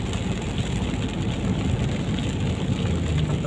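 Rain drums steadily on a truck travelling a mountain road between Malaysia and Savannakhet, Laos, a dense continuous patter over a low engine rumble.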